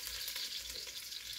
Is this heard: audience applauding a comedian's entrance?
no